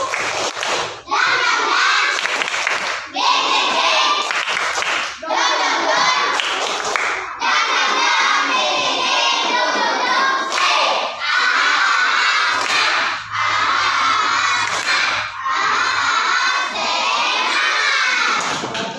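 A classroom of children in Indonesia performs a rhythmic group clap chant, loud bursts of shouting and cheering in repeated phrases separated by brief pauses, with clapping under the voices.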